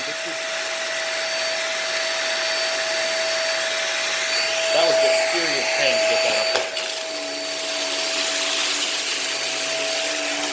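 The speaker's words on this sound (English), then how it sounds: "Come on, vacuum." A Hoover React Pro Pet vacuum cleaner runs with a steady, close whine and broad motor noise throughout, a brief clatter midway, while a person talks over it.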